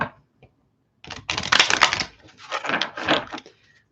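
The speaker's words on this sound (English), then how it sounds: "Let's do one more shuffle here" Stiff tarot cards riffle and slap together in two quick bursts of crisp, papery shuffling, close by, with no talking.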